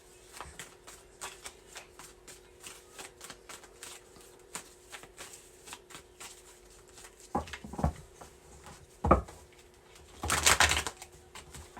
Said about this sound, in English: So I'm gonna get 6 cards from tarot for Aries, please.